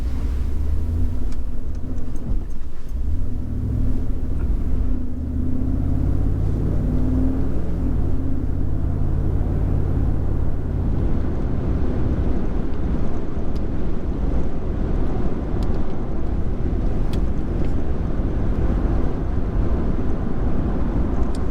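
A car pulls away from a stop and accelerates toward highway speed, its engine note climbing over the first several seconds before settling into a steady road rumble with wind noise, heard from inside the cabin without talk.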